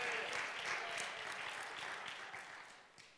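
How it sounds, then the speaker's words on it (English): Church congregation at a Bible class clapping hands together in a faint, brief burst of applause that fades out over a few seconds, no talk on top. "Take both your hands and clap them together"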